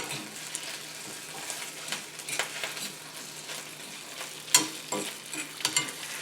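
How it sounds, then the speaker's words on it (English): Tomato paste sizzles gently as it fries and browns in a pan, with soft, steady crackling and occasional scraping stir strokes close by and no talking. "this tomato paste is starting to brown a little bit"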